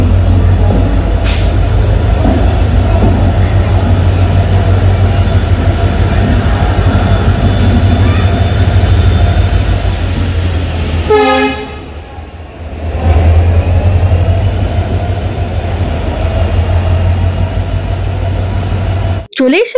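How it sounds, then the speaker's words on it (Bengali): Samaleswari Express, the Howrah–Jagdalpur train, arriving at Howrah station: a steady loud rumble of rolling cars with a sustained high wheel squeal, briefly interrupted by a sharp passing clatter, with voices in the background. "চলে এসেছে আমাদের ট্রেন হাওড়া জগদলপুর সামলেশ্বরী এক্সপ্রেস।"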